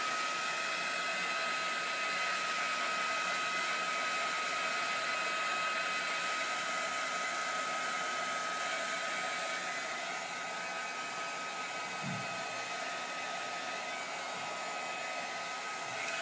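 A hair dryer blows steadily on Glimmer Mist puddles along the edges of a painted piece, a continuous close whoosh with no talk.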